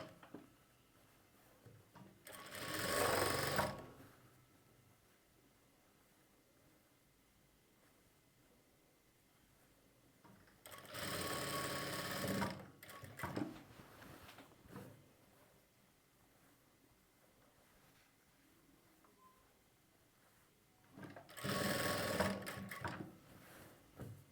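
A sewing machine stitches a pocket onto a chudi bottom in three separate loud whirring runs, each lasting a second or two, with quiet pauses between them and no talking.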